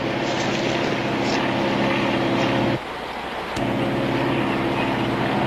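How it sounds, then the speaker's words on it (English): A propeller airplane drones steadily overhead with a loud, sustained engine hum and wind rush, briefly dipping before resuming. "It's a plane."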